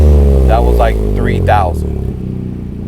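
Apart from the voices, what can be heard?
Toyota GR Corolla with SXTH Element dual exhaust revving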